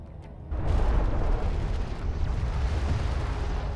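Battle sounds from the Deserts of Kharak video game: gunfire and heavy explosions as an armored vehicle takes fire, a dense, loud, continuous rumble that swells sharply after half a second and keeps going to the end.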